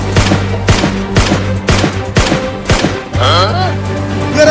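Gunfire aimed at a fish in a flooded village during a comedy sketch: a steady string of about six loud, sharp shots, each roughly half a second apart, over a constant hum. The shots then give way to warbling watery effects.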